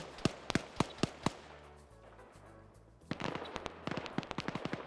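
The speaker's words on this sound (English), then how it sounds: "Dishka now firing again" DShK heavy machine gun firing in a PvP video game match: a burst of sharp, loud shots in quick rhythm, a pause with low rumble, then another rapid string of reports, fairly close.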